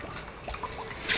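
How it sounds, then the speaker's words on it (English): Warm tap water trickles and splashes from a kitchen faucet in uneven, close dribbles, swelling to a brighter gush right at the end. "I'm going to take some very warm tap water."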